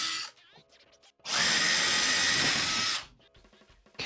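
Power drill driving screws into 2x4 lumber while building a stand for a CRT monitor: one loud, sustained whir of close to two seconds, with quieter handling clatter before and after it.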